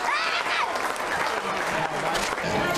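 A large crowd at North Ipswich Reserve applauds continuously at the final whistle of a Brisbane Roar versus Ipswich football match, with a commentator's voice speaking over the dense clapping.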